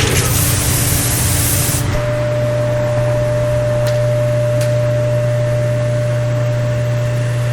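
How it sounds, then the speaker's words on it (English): A pressure washer sprays steadily with a loud hissing rush over a constant motor drone, continuous and close for the whole stretch. "Where's the pressure washer?"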